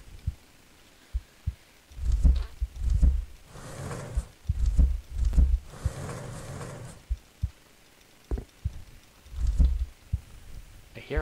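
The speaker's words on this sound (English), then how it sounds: "I hear a heartbeat somewhere." Slow, heavy double-thump heartbeat from a horror video game, a pair of deep throbbing pulses every second or so, loud and close, repeating across the stretch with a faint rumbling ambience between beats.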